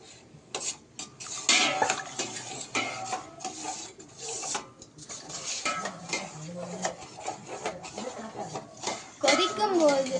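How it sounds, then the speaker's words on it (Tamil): Birandai vadakam mixture is stirred in a pan with repeated scraping and clinks of a utensil against metal, while a person talks throughout. "கிளறிக்கொண்டே இருக்க வேண்டும்."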